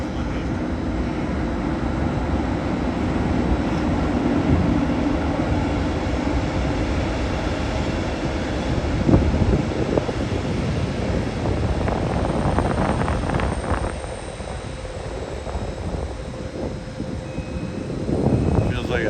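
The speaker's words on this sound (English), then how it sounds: "Here comes one in headed toward Budapest-Delhi direction. Electric locomotive." A Hungarian State Railways passenger train hauled by an electric locomotive passes through Budapest-Kelenföld station on a hot day, a loud steady rumble and roar of wheels with wind buffeting the microphone, swelling and easing as the train moves by.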